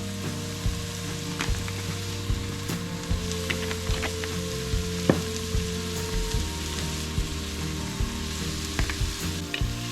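Chopped leftover vegetables frying in oil in a pan, a steady close sizzle with crackles and small pops throughout and a low hum beneath.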